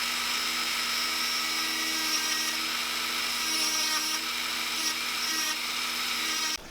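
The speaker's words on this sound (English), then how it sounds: "We'll widen it with this first." A rotary tool fitted with a ball burr bit widens a hole, giving a steady high-pitched whine with grinding texture and small pitch wavers as it bites, close and continuous until it cuts off at the end.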